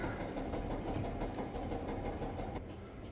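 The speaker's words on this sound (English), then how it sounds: "Sorry about the noise in the background, the wash machine's on." A washing machine runs steadily in the background of a kitchen, a low continuous mechanical rumble with faint rhythmic churning, fairly quiet and unchanging.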